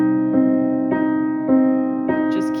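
Right-hand piano notes alternate back and forth in a steady pattern, starting on the middle finger, with each new note struck about every half second over sustained tones, close and clear with no talking.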